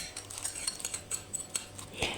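A utensil scrapes and clinks against the inside of a pot while broth with beef is strained of residue during borscht cooking, giving a run of light, close metallic taps and scrapes at an uneven rhythm.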